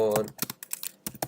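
Brief typing on a computer keyboard: a quick burst of sharp keystroke clicks in an irregular rhythm, close to the microphone, starting just after a short bit of speech.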